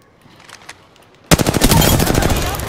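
Rapid automatic gunfire from the video game Apex Legends bursts in loudly after a quiet stretch with faint scattered clicks, then continues as a sustained, dense rattle of shots to the end.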